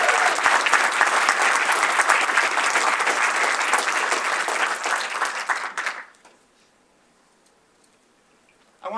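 A conference audience applauds at an evening UX talk, with dense, loud, steady clapping and some cheering that runs for about six seconds, then cuts off into near silence.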